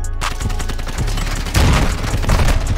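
Rapid bursts of gunfire in a shooter video game, dense crackling shots that grow louder and heavier in the second half, with barely any talk.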